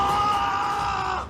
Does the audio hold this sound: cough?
no